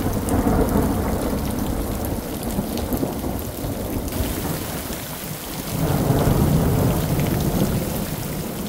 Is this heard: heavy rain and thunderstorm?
yes